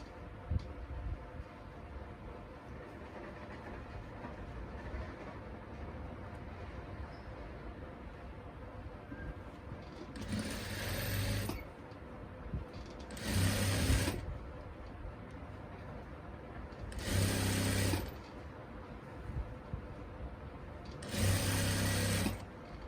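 A sewing machine stitches a salwar in four short bursts of rapid whirring, each a second or two long, separated by quieter stretches of low background noise and faint handling.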